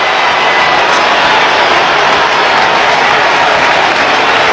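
A dense, loud stadium crowd applauds steadily after Andrea Orlandi's goal for Anorthosis against Apoel, a continuous wash of clapping and cheering.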